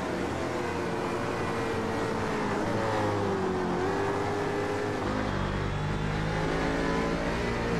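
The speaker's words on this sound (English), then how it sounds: "I'm noticing the engine sounds are coming a little bit out of sync" Racing car engine revving loudly and continuously in a GT-class sim racing game, pitch climbing and dropping through gear changes, with the engine note steady throughout and no voices.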